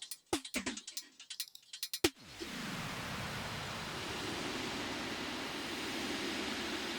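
A few sharp clicks are followed by a dense wash of reverb from the Eventide H90's Wormhole algorithm on drums, swelling and then sustaining evenly, a long hissing tail without fading.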